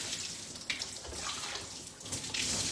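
Water running and splashing steadily while natural hair is rinsed after the cap comes off, a continuous close hiss with brief splashes and no talk.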